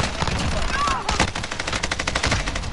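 Sniper fire from a window in a video game: rapid, sharp gunshots crackle in a dense burst over game noise, loud and close.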